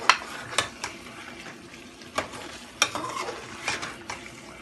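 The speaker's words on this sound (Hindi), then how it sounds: "अब हम इसको भूनेंगे" Chicken for a curry being stir-fried in a pot, a soft frying sizzle broken by repeated scraping strokes of a spoon against the pot at an irregular rhythm, close by with no talk.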